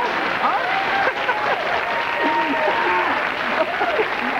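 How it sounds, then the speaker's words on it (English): A television talk show studio audience applauds steadily throughout, a dense wash of clapping with voices talking over it. "look at him up there accepting all the applause"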